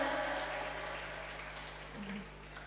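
Audience applause at an Indonesian character-building seminar, a soft, steady wash of clapping that fades slightly over a few seconds, heard from a distance in a large room.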